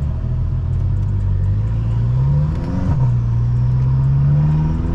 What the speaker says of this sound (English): My favorite sound is that sound of that turbo